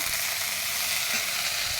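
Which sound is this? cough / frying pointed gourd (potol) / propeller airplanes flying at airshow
frying pointed gourd (potol)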